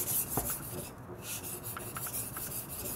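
Scraping and rasping of a Sakon 210 mm VG-10 gyuto being sharpened on a Japanese whetstone, a steady close rub with soft gritty strokes throughout, no talking.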